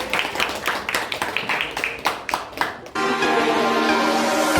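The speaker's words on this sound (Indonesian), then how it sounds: "tepuk tangan untuk kita semua" A classroom of students claps in quick, uneven bursts for about three seconds before the clapping gives way to a steady, louder background of music.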